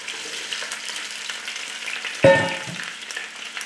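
Baby artichokes go into hot olive oil on a stove, a loud burst of spitting sizzle at entry settling into steady close frying crackle.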